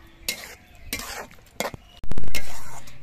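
A spoon stirs a green tomato dish with sugar added, scraping and clinking in short bursts against the pan, then a sharp loud clatter near the end.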